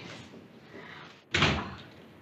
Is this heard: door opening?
yes